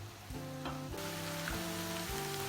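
Onions and chard sautéing in a pan give a steady, close sizzle with soft crackling throughout, broken by a few light stirring clicks, with no voices present.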